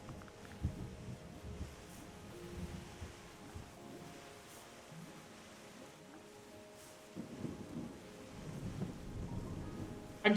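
Rain and rolling thunder in the video game Terra Nil, with a steady low rumble of falling rain and soft thunder swells, growing louder near the end.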